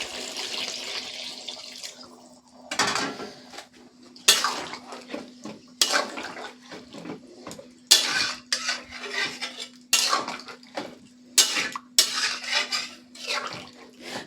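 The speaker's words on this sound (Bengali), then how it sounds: "আর এখানে আমি অল্প করে একটু জল দিয়ে দেব।" Water poured in small splashes into a pot of village-style desi chicken curry, heard as several separate bursts with clinks of a utensil against the pot between them.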